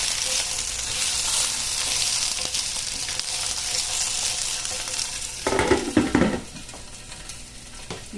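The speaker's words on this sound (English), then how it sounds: "while these peppers are heating up." Peppers heat in a single pan for Italian peppers and eggs, giving a steady sizzling hiss. Near the end a brief, louder burst of scraping and stirring rises over the frying.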